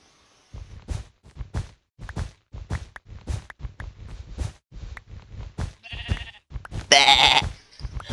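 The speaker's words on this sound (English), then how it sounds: "Sheep noises." Blocky sheep in the game Minecraft bleat in a run of short repeated cries, fairly loud and close, ending in a brighter burst near the end.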